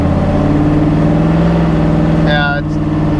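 A 3rd gen Camaro V8 fitted with a Hughes 3000 stall torque converter, a loud, close engine holding a steady rumbling note that swells in a rev, with a voice speaking over it briefly.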